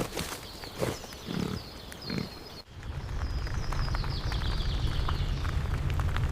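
Several low grunts from a wild boar in woodland, then a steady rushing background like rain or running water.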